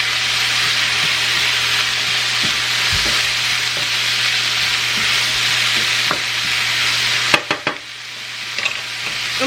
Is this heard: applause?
no